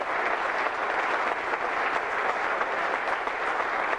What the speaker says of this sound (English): The supportive audience applauded him after he picked a hanky from his wife to bury his tears